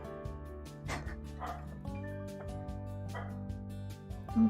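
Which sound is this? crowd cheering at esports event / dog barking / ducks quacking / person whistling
dog barking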